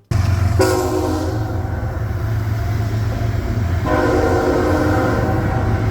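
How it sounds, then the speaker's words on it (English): A loud train rumbles past nearby, passing under a bridge, its horn blaring twice over the steady roar of the cars on the rails. "have a train scare the crap out of me as it went under the bridge"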